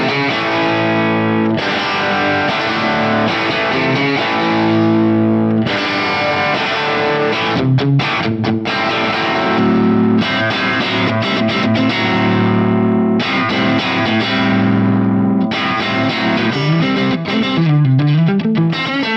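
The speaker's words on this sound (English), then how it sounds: "I'll just let you hear the difference between soft, medium, and hard with this tone" Heavily distorted electric guitar chords from an FM9 amp modeler with speaker breakup ring out continuously and loud, thick and gritty with sustained notes and occasional changes, no voices.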